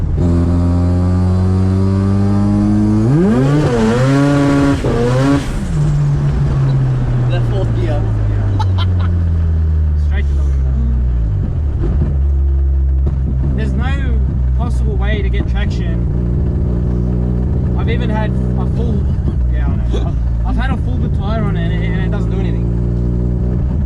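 A turbocharged 13B rotary Mazda 1300 coupe accelerates hard, its loud engine note climbing through rising gear pulls with a shift partway, close and inside the car, with occasional voices over the roar.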